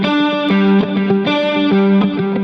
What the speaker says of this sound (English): The bubble vibrato, I think, is what we use in the Helix to get that sound.